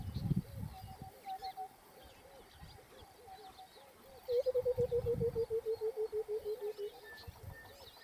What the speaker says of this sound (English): he's called a white-browed cuckoo, and another name for him is a bottle bird